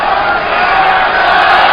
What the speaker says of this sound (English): the crowd's starting to come alive already for Shiming